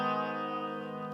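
Short echo delay from a prototype PT2399 guitar pedal, with sustained guitar notes smeared by a 30–40 ms repeat, steady, close and alone.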